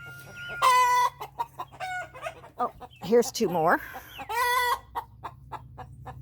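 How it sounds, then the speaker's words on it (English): Free-range ranch chickens cluck and squawk in repeated bursts, close and fairly loud, with a faint low hum beneath and someone speaking briefly. "The other 3 are already out and about doing their chicken thing."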